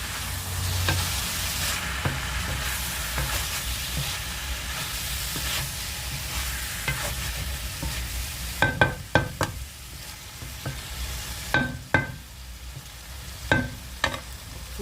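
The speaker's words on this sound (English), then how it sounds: "I'll add my black pepper and just stir that." A spoon stirs black pepper into a pot of ackee and smoked salmon fried rice, a soft sizzle running underneath while sharp scraping clatters strike repeatedly and grow louder toward the end.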